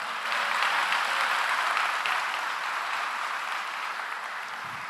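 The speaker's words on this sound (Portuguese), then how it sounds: "aplauda o Senhor" Sustained applause fills a church service, a congregation clapping together in a dense, steady wash that holds at an even level throughout with no voices standing out.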